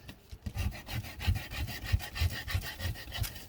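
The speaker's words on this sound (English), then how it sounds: "I'm going to do a little bit more sanding from the top down." Hand sanding on wood, steady rhythmic back-and-forth rubbing strokes at close range with no talking.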